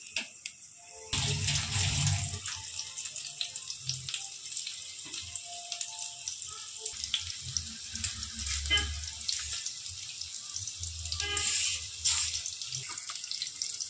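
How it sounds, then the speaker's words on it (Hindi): Chopped onion and green chillies sizzle in hot oil, a sudden loud burst of hissing frying that settles into a steady crackle. Occasional clinks of utensils sound over the hiss. "देखिए तेल गर्म हो चुका है, प्याज डालेंगे इसमें, हरी मिर्ची डालेंगे।"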